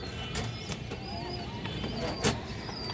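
Pigeons on a farm coo softly amid steady outdoor background noise, with a few brief flapping or rustling bursts and faint chirps scattered through.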